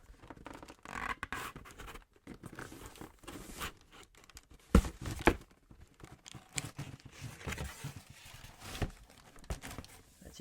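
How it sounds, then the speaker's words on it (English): Crocs-branded tissue paper crinkles and rustles inside a shoe box as it is handled up close, producing dense, continuous scratchy crackling with a few sharper rustles midway, with no speech. "nice crinkly sounds in there of the Crocs branded tissue paper"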